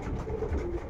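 A Schellens-line hen pigeon gives a soft, brief coo, close up and alone.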